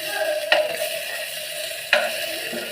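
Fish frying in a pan gives a steady, close sizzle, with two brief clinks or stirring knocks standing out above it.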